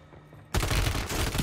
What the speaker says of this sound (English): Someone's sniping at him.